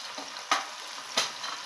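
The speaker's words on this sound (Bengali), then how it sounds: "দিয়ে এটাকে সুন্দর করে কষে নেব" Chili, coriander and cumin powders fry in a pan for a green jackfruit kofta curry, a steady close sizzle with two sharp stirring scrapes.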